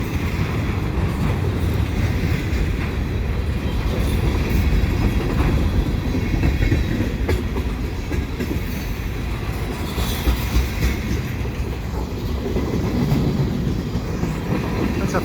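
A CP freight train of empty flat cars rolls past close by at Marshall Avenue in the fall, with a loud steady rumble, wheel clatter and a hint of squealing throughout and no pauses.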